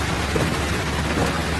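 Steady, heavy rain falling in a film scene as a bus drives on, a dense, loud hiss with low rumbling beneath, continuous and with no talking.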